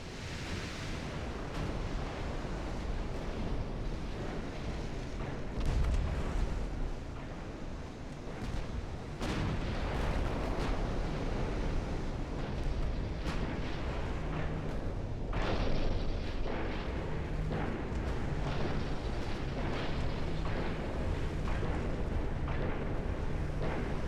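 Warship main guns fire repeatedly in the naval battle game Ultimate Admiral Dreadnoughts, heavy booms rolling over a constant dense roar of sea and engine noise, with sharper reports standing out around the middle.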